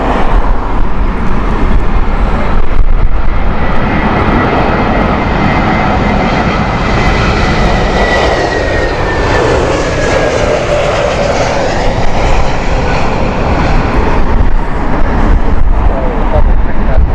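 A JetBlue airliner roars loudly at Heathrow Airport in heavy winds, its engines a continuous near rumble with a rising whine, under gusty wind noise and someone talking over it.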